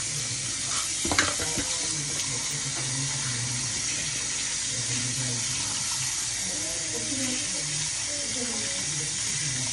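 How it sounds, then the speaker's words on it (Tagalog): Tap water runs steadily into a sink as cleaned milkfish is washed, close and continuous, with a clunk of handling near the start and a person talking softly over the flow. "Hugasan po natin yung ating bangos na nilinis"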